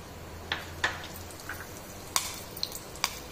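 Green chili and cumin seeds sizzle and pop in hot oil in a pan, with a soft steady frying hiss broken by several sharp crackles and spits spaced irregularly, close and fairly quiet.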